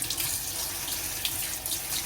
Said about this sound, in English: now we're at the sink. I'm just gonna rinse this off like it says to do